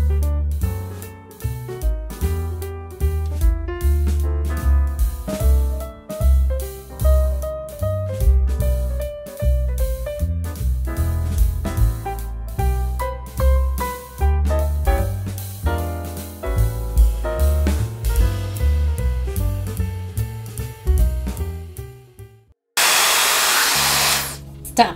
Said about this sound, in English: I'll do this side, the Laifen, and I'll do the other side, my traditional dryer.